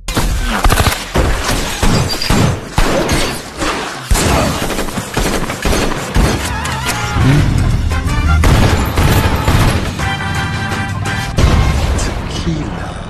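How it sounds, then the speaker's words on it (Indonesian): A shootout in the 2017 film Baby Driver brings dense bursts of rapid gunfire and shattering impacts woven into a loud music soundtrack, fierce and continuous throughout. "terjadilah baku tembak dengan tempo yang pas membentuk sebuah musik yang cukup keren"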